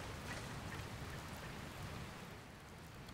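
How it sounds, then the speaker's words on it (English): Rain falls steadily in the Dragon Quest Builders 2 video game, a faint, even hiss of drops with no voices over it. "Oh, it's raining."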